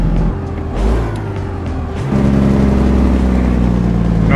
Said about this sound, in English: You know I like to hear my engines.